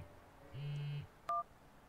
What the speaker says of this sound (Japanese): 電話の音